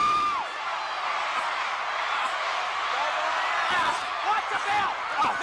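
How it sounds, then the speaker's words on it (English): A packed wrestling arena crowd roars and cheers continuously, a dense, loud wash of voices with whoops and shouts rising near the end. "Look at this crowd. Listen to them."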